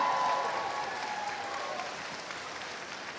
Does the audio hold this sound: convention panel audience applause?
yes